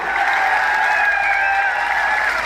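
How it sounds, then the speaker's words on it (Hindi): A large crowd at a political rally in Nohar applauds loudly and continuously, a dense sustained wash of clapping with faint cheering mixed in. "ताली बजाइए, और जोर से ताली बजाइए।"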